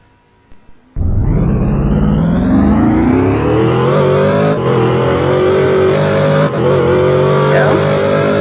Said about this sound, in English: Drifting a truck.